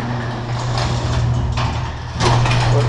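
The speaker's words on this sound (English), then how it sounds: "garage doors, no trip sensors." Garage door opener running with no trip sensors, a steady mechanical hum and rattling drive, loud and close, swelling louder near the end.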